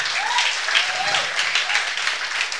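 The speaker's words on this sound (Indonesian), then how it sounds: "Tepuk tangan Eka." Continuous congregational applause fills a church service, a dense, even wash of clapping heard fairly close and loud with no pauses.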